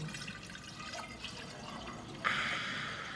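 Still tap water runs into a vase at a DIY flower arrangement, a steady close trickle that turns into a brighter, louder pour partway through, with no voices.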